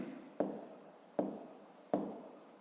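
A pen or pencil scratches out three short, evenly spaced strokes on paper, each a soft, close scrape that fades quickly, in an otherwise quiet room.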